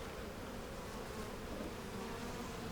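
A sluggish second beehive gives off a quiet, even buzzing drone that holds steady throughout, with nobody speaking.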